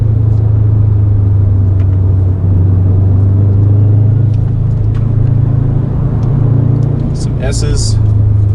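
A Subaru engine hums at a steady low drone while driving through corners with the throttle gently feathered, loud interior road rumble throughout, someone talking briefly over it.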